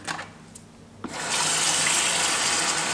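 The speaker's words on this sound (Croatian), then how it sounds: "Za početak ću u kuhalo staviti u vode da se zagrije" Tap water gushes steadily into an electric kettle being filled, starting after a brief clunk and continuing as a loud, close, even stream.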